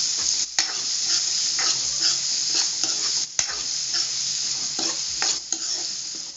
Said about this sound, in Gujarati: હવે મીઠું અને કાંદાને હલાવી લઈશું